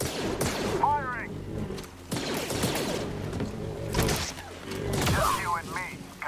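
Blaster fire in Star Wars Jedi: Fallen Order, sharp repeated bursts in several clusters, mixed with game voices talking and electronic whine-like effects.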